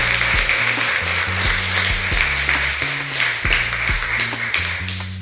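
Audience hand clapping at the S.E.A. Leader Awards, rhythmic sharp claps in a steady beat heard over pulsing low music, loud and close throughout.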